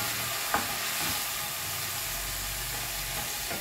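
Garlic and chili hit hot oil in a pan for ginataang gabi, giving a quiet, steady sizzle that opens with a single sharp clank of a utensil.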